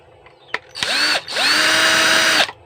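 Power drill backing screws out of a power inverter casing: two close, loud whirring bursts, the second held longer, with the motor pitch ramping up and then dropping off, and no one speaking.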